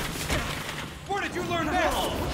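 Gunfire in the superhero action game Gotham Knights, a few bursts of shots mixed with effects and whooshes, under character dialogue and shouting.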